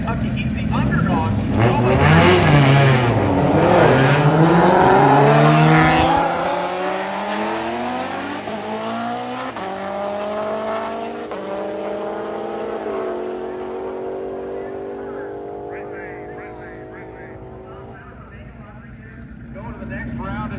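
A Mustang and an all-wheel-drive GTR in a roll race roar hard at full throttle, their engines climbing through the gears in loud rising sweeps before fading into the distance, while a commentator talks over them.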